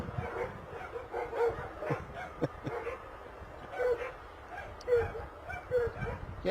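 A dog keeps barking at another dog going past outdoors near Bristol Airport, irregular yips and barks at moderate distance, with someone talking over them.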